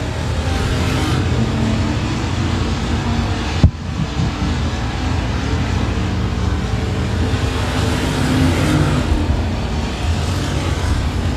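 Dirt track race cars roaring past, with continuous loud engine noise that swells and fades over several seconds and a sharp thump partway through.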